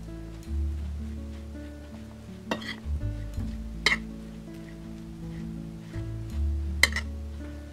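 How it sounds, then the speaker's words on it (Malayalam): Marinated bitter gourd pieces coated in rice flour and salt fry in hot oil in a pan, a soft sizzle broken by stirring and a few sharp clinks of a utensil against the pan, with no talking. "പാനിൽ എണ്ണ ചൂടാക്കി മാരിനേറ്റ് ചെയ്ത് വെച്ചിരിക്കുന്ന പാവയ്ക്ക കുറേശ്ശെയിട്ട് നമുക്ക് വറുത്തെടുക്കാം."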